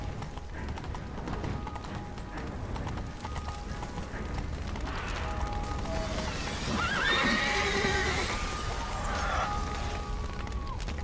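Roach the horse in The Witcher 3 lets out a loud whinny with a wavering pitch, set over hooves and a steady noisy game ambience.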